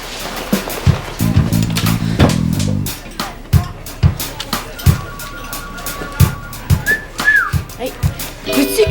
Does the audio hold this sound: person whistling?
yes